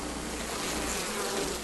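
Honey bees on a hive frame buzz in a dense, steady drone, close and loud with no break across the short stretch.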